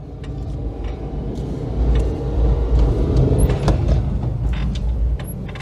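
Citroën GSA pulling out onto the Oulton Park race circuit: a steady, close engine drone and road rumble that swells after a couple of seconds, with faint creaks from the car body.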